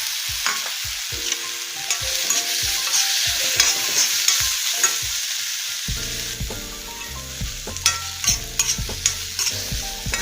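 Fried soybeans are stirred into sautéed onions in a pan. Steady sizzling runs under rapid, repeated scraping strokes of a utensil, with background music throughout that grows fuller in the second half.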